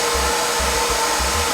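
A hair dryer blows steadily and loudly on styled hair, close up, with a continuous whooshing roar and faint low thumps underneath.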